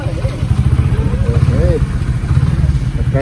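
A motorcycle engine on a hill trip runs steadily and loudly close by, with a low, pulsing drone throughout while voices talk over it.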